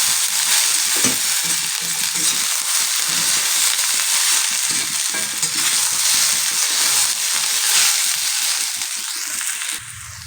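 Mixed vegetables frying in a pan until browned make a loud, dense, continuous sizzle of spattering oil that runs the whole stretch and eases slightly at the very end, with no voices.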